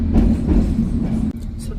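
Steady low rumble of a train interior while riding into Watford, London, a continuous droning hum with a brief dip near the end, voices faintly present under the noise.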